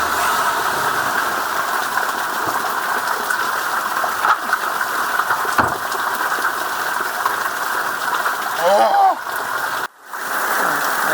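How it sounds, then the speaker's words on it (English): Cold rain pours steadily in Michigan, a dense continuous hiss with water spilling from a clogged gutter, close and loud, broken near the end by a brief rustle and a sudden dropout. "this rain is extremely cold"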